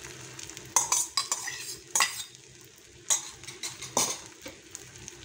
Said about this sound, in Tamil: இப்போ 2வது ஆம்லேட் ஊற்றிக்கலாம். அப்படியே ஸ்ப்ரெட் பண்ணி விடுங்க கொஞ்சம்.